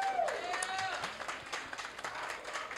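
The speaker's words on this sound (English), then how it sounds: "Big round of applause for Robin." An audience at the 2021 Monica Roberts NTVM Torch Awards gives a steady round of applause and clapping for award recipient Robin, a continuous crowd patter lasting throughout.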